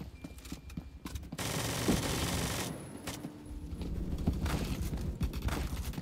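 Automatic gunfire from an M231 fitted with only a compensator in a video game: sustained rapid bursts lasting a few seconds, with dense clattering mechanical texture and short gaps between volleys, loud and close.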